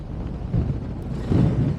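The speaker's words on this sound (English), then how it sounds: "The wind's pretty strong." Strong wind buffets the microphone on top of Glastonbury Tor, a low rumbling roar with gusts swelling and easing over a couple of seconds, with no talk.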